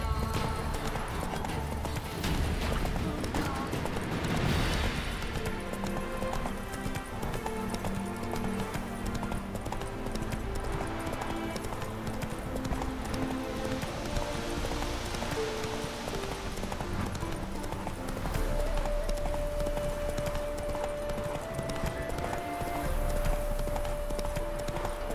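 Horse hooves galloping in The Witcher 3, a steady rapid clip-clop running throughout over in-game music and ambience, with a brief whinny early on.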